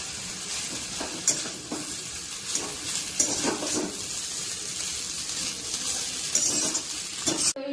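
Food fries and sizzles in a pan during home cooking, with a continuous crackling hiss broken by occasional stirring scrapes and light clinks of utensils, close and steady throughout.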